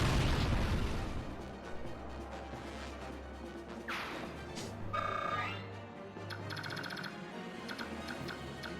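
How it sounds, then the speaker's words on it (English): A big explosion in the Fire Emblem: Path of Radiance video game, a loud burst at the start that decays into a rumbling tail, followed by game music and ticking interface tones. "Hey, look, a nuclear bomb."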